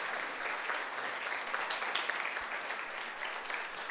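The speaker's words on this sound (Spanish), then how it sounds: "Brindémosle un fuerte aplauso al Señor de su presencia." Quiet, steady applause from a church congregation during a morning service, an even patter of many hands at a distance that carries on throughout.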